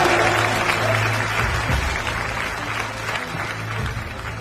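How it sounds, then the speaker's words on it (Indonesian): Audience at an award ceremony breaking into applause, a full, lively burst of clapping from a crowd with a low hum underneath, steady throughout and slowly tapering. "Boleh kasih tepuk tangan yang paling meriah."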